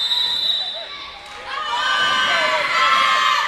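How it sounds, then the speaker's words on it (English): A crowd at a varsity volleyball match cheers and shouts, with a high whistle-like tone at first, then the noise swells loud and sustained near the end. "Loving this crowd out here."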